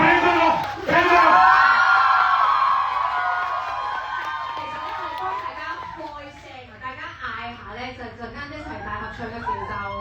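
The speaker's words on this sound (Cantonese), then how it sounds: "掌聲先咯" A crowd at a celebrity burger-tasting party cheers, whoops and shouts in a loud swell that gradually thins out while people keep talking.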